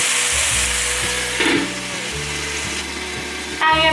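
Lotus root slices cook in a pan over low heat, giving a steady close sizzle and hiss throughout, with a low tonal hum beneath and a brief louder crackle near the end.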